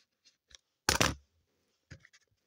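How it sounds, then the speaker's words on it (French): Scissors snip through a paper strip during a scrapbooking craft, one short crisp cut close by, with a few faint taps and rustles before and after in an otherwise quiet room. "Je vais pas coller, mais je vais venir couper quand même"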